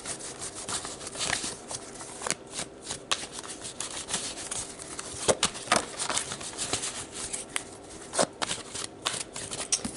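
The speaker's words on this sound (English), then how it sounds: "let's pull some tarot cards to see how this energy plays" Tarot cards being shuffled by hand, a steady run of papery riffles and soft slaps with sharper flicks scattered throughout, close and alone with no voices.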